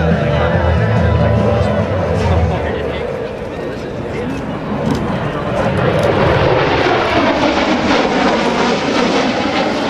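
An F/A-18F Super Hornet flies an inverted low-power pass at a military open house air show, a steady broad jet roar drifting overhead, with an announcer and crowd noise beneath it.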